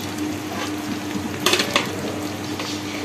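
Hilsa fish pieces sliding into a hot pan of oil, setting off a steady, close sizzle with a brief louder spatter and a few clinks partway through.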